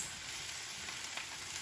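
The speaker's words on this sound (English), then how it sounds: "Give them a little mix." Thawed frozen vegetables sizzle steadily in a frying pan, a continuous close crackle with faint scrapes of stirring, no voices.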